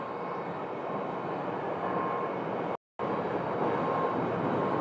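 An airliner floats down the runway while landing at Phoenix Sky Harbor Airport, a steady broad engine roar heard from a distance, briefly cut by a short gap of silence.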